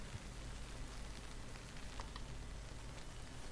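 Rain falling in the video game Human: Fall Flat, a faint, steady hiss of drops with a low rumble underneath, continuous and without voices.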